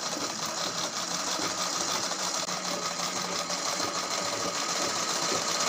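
A Pico sewing machine runs steadily doing a normal straight stitch, giving a continuous, close, even mechanical whir with a rapid rhythmic hum throughout, with no talking.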